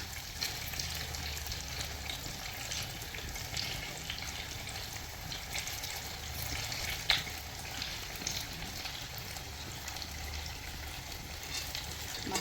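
Batter for Kannur appam, a white rice-based appam, fries in the hollows of a pan, making a steady, soft sizzle throughout with a small clink near the middle.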